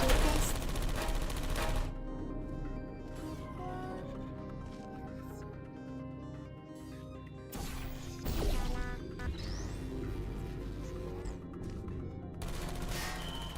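Turret gunfire in the Portal 2 video game, heard as dense bursts of rapid, loud shots near the start, the middle and the end. Between the bursts, game music and ambience continue underneath.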